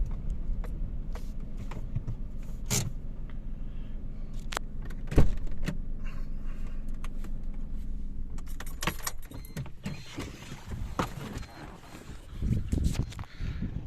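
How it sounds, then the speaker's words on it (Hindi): A car is parked on a residential sector street in DHA Phase 3, Rawalpindi, with keys jangling, a door thud and rustling handling noises over a steady low engine and road rumble, loud and close, with no talk. "गाड़ी मैं इधर पार्क करता हूँ"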